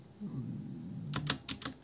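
Clicks from a mechanical computer keyboard come through as a short burst of about five crisp keystrokes, close and fairly quiet, following a moment of low background rumble.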